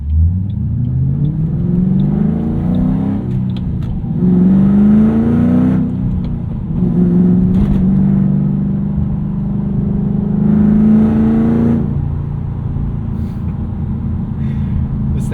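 A loud straight-piped 4.6-liter V8 engine of a 2007 Ford Mustang Shelby GT roars and revs repeatedly, its deep rumble rising in pitch with each burst of throttle, continuous and close throughout.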